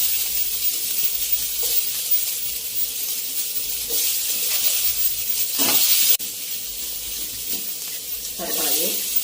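Sliced onions sizzle in hot oil in a pan after cinnamon and cardamom go in for spicy semiya, a steady close hiss with brief bursts of louder crackle and clatter.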